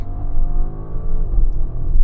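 A 2025 Audi SQ8 engine revs loudly and close, its pitch climbing and dropping as it shifts through gears in quick succession.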